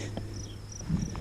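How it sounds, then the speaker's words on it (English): Faint, high-pitched cricket chirps repeating in short pulses over a quiet garden background. "Listen to some crickets chirp and stuff like that."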